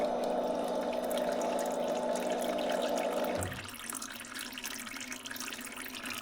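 Water flushing through a cooler during cleaning, a steady, loud, close gush that drops abruptly to a thinner, lighter flow partway through, with no voices.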